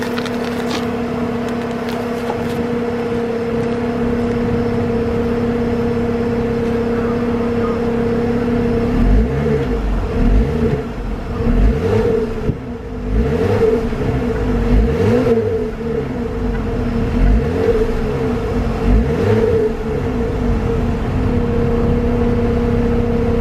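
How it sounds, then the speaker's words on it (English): A 2018 Jeep Wrangler Rubicon's exhaust rumbles at idle, then revs repeatedly in several loud, surging bursts, close and alone with no talking. "Let y'all get this exhaust note."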